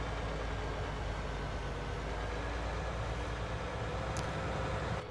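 A heavy vehicle engine idles in Farming Simulator 19, a steady low rumbling drone that stays constant and close throughout, with no talk.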